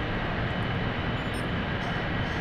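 A War Thunder warplane engine roars in a dense, constant drone that stays loud and unbroken throughout, with no voices.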